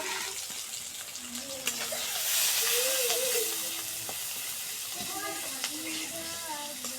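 Chopped onion sizzles in oil with bay leaf, cinnamon and cardamom, a soft steady hiss under a voice talking quietly, with a few light clinks and a short louder swell near the middle.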